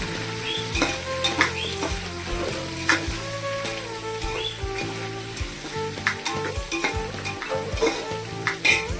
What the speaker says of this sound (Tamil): வெங்காயத்தை நல்லா வதக்கி